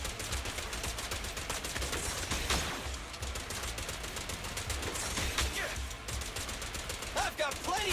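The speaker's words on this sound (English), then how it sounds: "You're firing at an unreasonable speed out of those revolvers" Rapid revolver gunfire in a video game, a dense fusillade of shots fired at high speed throughout, with game voices talking over it.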